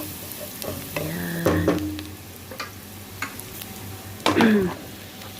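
Onion and garlic sizzle steadily in hot oil while a utensil stirs and scrapes the pan, with a brief spoken word partway through.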